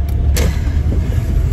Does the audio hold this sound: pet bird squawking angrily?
no